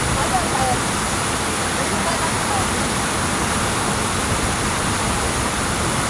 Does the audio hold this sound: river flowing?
yes